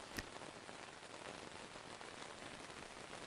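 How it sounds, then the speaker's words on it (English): Light rain falling steadily on a tent surface, a soft, even patter of drops that stays faint and constant throughout, with one slightly sharper drop near the start. "Outside, the rain continues to build, still light, but more frequent now."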